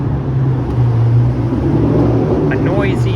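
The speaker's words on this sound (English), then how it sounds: "A car with a noisy engine." A car with a noisy engine passes on Sheppard Avenue East near Yonge Street in Toronto, a loud continuous low rumble close by with wind buffeting the microphone.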